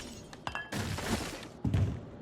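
Glass shatters inside the video game Prey, a short crash with a second heavy break following, set over a steady game background hum.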